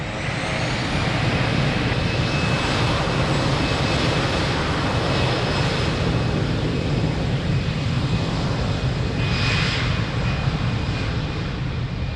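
A fixed-wing airliner at Lisbon Airport takes off from runway 02, its engines producing a loud, steady broadband roar that holds constant throughout, with a brief swell of hiss near the end.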